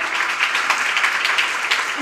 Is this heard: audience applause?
yes